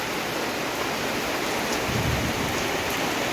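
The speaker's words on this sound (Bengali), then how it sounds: "কি সুন্দর লাগছে বৃষ্টি, মানে দেখতে কত সুন্দর লাগছে" Steady, dense rain pours down outdoors around a village home with green plants, a close, even roar of falling water with no voices.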